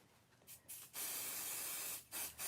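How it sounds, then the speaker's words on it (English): Pixie spray misted onto scrapbooking paper in two short hissing bursts, the first longer than the second, close by and with no talking. "So I just put a little bit of pixie spray on that."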